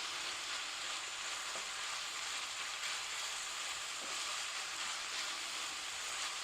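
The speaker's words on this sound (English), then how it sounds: "We're going to stir that up." Enchilada filling sizzles steadily in a pan as cilantro is stirred through it, a continuous bright frying hiss with a couple of soft scraping strokes, no voices.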